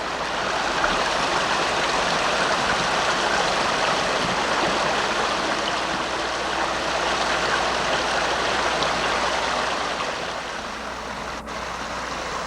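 Creek water flowing steadily beside a walking path, a close, continuous rushing babble that holds at an even level for the whole stretch, with no voices.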